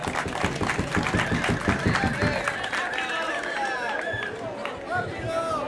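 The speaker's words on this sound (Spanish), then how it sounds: "Un aplauso, por favor." An audience applauds at a swearing-in ceremony, with brisk clapping that is dense at first and thins out, over a background murmur of crowd chatter.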